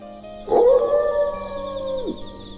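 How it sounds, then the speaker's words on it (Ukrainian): A single long wolf howl rises, holds steady, and then drops away, sounding somewhat distant over a quiet background drone. "Десь далеко почулося виття."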